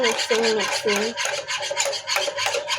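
Jello mixture being stirred briskly in a bowl with a spoon, a series of close scraping, rasping strokes in an uneven rhythm, loud and alone without speech.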